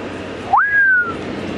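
A person whistles an imitation of a currawong call: a single close, clear note that rises sharply, then holds and slowly falls off, over faint outdoor background noise.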